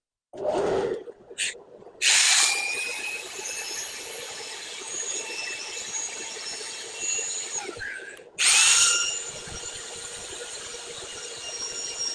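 A power sander whirs steadily at close range on a wooden bowl turned from firewood, starting and stopping in short bursts before settling into a long continuous grinding run, with a brief pause near the end.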